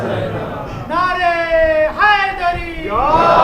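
Crowd at a religious majlis gathering chanting slogans in unison, loud sustained voiced calls in two or three swelling bursts, each a drawn-out collective shout rising and falling in pitch.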